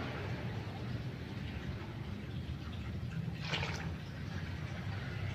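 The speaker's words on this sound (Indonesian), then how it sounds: "kita berikan perlakuan yaitu dengan disiram air larutan kalsium hidroksida dosis 100 ml" A brief pour of calcium hydroxide solution onto a potted plant growing medium, a soft splashy trickle rising for about half a second midway over a quiet, hissy background.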